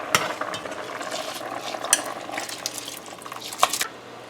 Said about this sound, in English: So now we're gonna add our rice here.